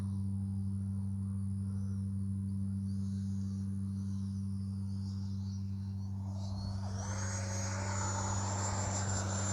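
FlyFans L-39 RC model jet on landing approach, a steady close turbine whine and roar that rises in pitch toward the end as the engine spools up.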